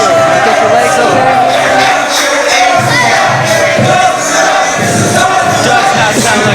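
A wrestling crowd at a summer bash event roars and jeers in loud, continuous waves of booing and shouting, rising and falling throughout with no clear talk over it.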